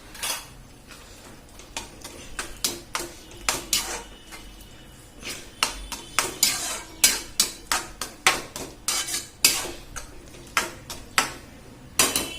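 Spoon scraping and clanking against a pan while pav bhaji is stirred with coriander leaves; sharp, close metallic knocks in an uneven steady rhythm across the whole stretch, with no voices.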